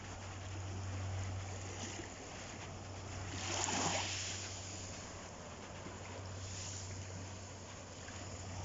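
Sea waves wash onto a beach in Spain, a soft continuous surf hiss with one gentle swell and break in the middle, heard faintly under a low steady hum.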